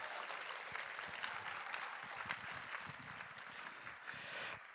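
Luncheon audience applauds donors at a gun responsibility fundraiser, a steady, fairly distant wash of clapping that is faint and continuous, with no voices over it.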